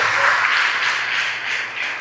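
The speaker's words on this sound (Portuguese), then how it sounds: "Vamos aplaudir ao Senhor" A church congregation claps together in steady, dense applause that fills the whole stretch, loud and close, with no voices rising above it.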